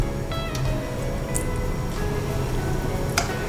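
Tofu slices fry slowly in oil in a pan, producing a steady close sizzle with scattered small pops and crackles over several seconds and no voices.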